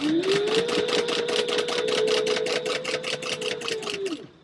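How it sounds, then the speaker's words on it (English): A sewing machine runs a continuous stitch on a Christmas sewing project, a close, steady mechanical whir with a fast ticking needle rhythm for about four seconds before it slows and stops. "that's how we're going to keep our continuous stitch going"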